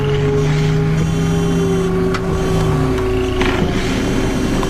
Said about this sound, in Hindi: वही पुरानी ब्लैक सीडान कार, वही अजीब गूंजती इंजन की आवाज।